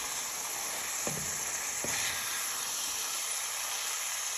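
Cauliflower pieces are stirred in a sizzling sauce for bang bang cauliflower, a loud continuous hissing fry with two brief spoon knocks early on, no voices.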